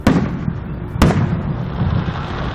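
Fireworks burst at a Fourth of July show in Austin, Texas: two sharp, loud booms about a second apart, each followed by a rumbling, crackling tail that lingers between and after them.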